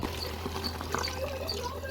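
Water from rinsing a mixer jar poured into a pot of mutton sambar, a soft, short trickling splash with a low hum underneath.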